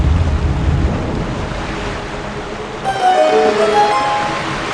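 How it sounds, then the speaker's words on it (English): Rushing water surges and washes in a continuous noisy roar in the video game Twilight Princess after a door is swung around, then brighter splashing and trickling tones take over near the end. "swing the door around so that we've got water coming in"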